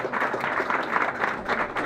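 An audience claps for a guest at a charity run fundraiser wrap-up, a short burst of steady applause at moderate distance with no talk over it.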